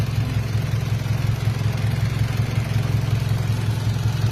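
A Toyota Vios engine idles roughly, giving a steady, loud low rumble with an uneven, lumpy pulse throughout. It is heard up close and alone, with no talking.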